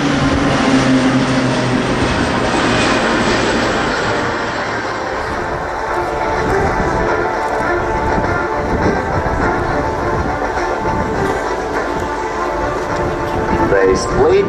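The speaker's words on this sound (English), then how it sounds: "Pilots are demonstrating the aircraft in landing configuration." Orlik aerobatic team propeller aircraft flying in landing configuration at RIAT 2016 airshow, a loud sustained engine drone passing overhead with shifting pitch, under an announcer's commentary and crowd noise.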